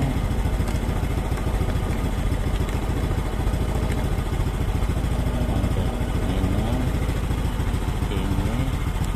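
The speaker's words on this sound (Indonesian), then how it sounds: "Oke ya, motor nyala, kita coba cek." Honda Supra X 125 carburetor motorcycle engine idling close by in a workshop, a steady even rumble with light mechanical clatter, a brief voice fragment partway through.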